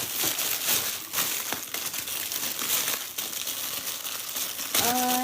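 Plastic packaging crinkles and rustles continuously up close, loud crackling handling noise with a brief tonal squeak near the end.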